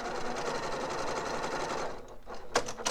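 A sewing machine stitches quilt binding in a fast, close, steady mechanical whir for about two seconds, then stops, followed by a few faint clicks and handling sounds.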